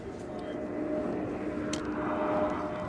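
A Cessna 680A business jet passes at Edinburgh airport as a steady, moderately loud broadband roar that swells slightly toward the end, heard from the ground outdoors.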